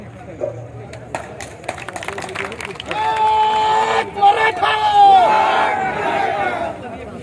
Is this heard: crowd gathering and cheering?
yes